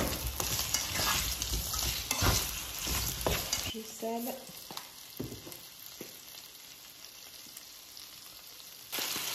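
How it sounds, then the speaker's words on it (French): Potatoes frying in a hot pan, a strong hissing sizzle that settles into a quieter crackle with scattered utensil clinks, and a brief spoken word partway through. "Une fois que la poêle est chaude, on va y rajouter les pommes de terre."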